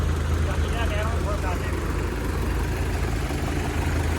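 A tractor that has come to haul sand from the fields idles steadily with a low, continuous engine drone, partly covered by voices talking nearby.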